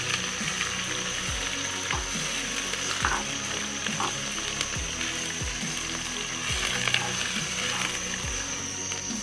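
Onions sizzle and fry steadily in a pan, a close, constant crackling hiss, with a low repeating rhythmic sweep beneath it throughout.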